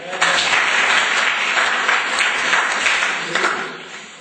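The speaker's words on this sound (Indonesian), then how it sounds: "Tepuk tangan terakhir." Applause from an audience of parents at a school workshop, a full, continuous patter of many hands clapping at a steady level, tapering slightly at the end.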